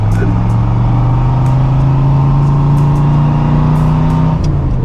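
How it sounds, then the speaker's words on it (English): A carbureted 340 horsepower V8 Corvette with side pipes idles with a loud, steady low exhaust burble close by, holding nearly constant before easing slightly near the end. "Listen to those side pipes."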